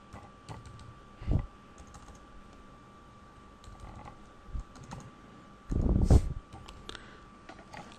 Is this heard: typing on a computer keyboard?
yes